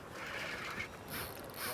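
A fishing reel cranked fast while fighting a big fish from a boat off Albany Island, giving a steady mechanical ratcheting whir with wind and water noise, no voices.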